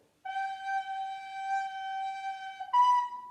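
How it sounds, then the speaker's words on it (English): A recorder sustains one long steady G for about two and a half seconds, then steps up to a short B at the end, with clean, bright tones and no voices. "So 4 beats on a G, followed by a short 1 beat B at the end."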